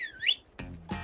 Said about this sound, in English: Hey, I whistled.